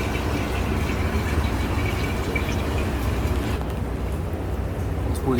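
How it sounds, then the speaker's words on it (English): Dark engine oil drains from the oil pan of a 2016-2021 Honda Civic, a steady liquid pour and trickle into a bag, with the flow thinning near the end. "We drain it all, most of it, with the oil drain plug bag."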